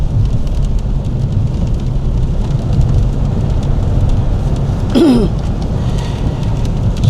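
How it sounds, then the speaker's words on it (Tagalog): Heavy rain pours steadily in Vancouver, Canada, a dense constant hiss and roar throughout, with a brief louder rumble midway. "Lakas ng ulan."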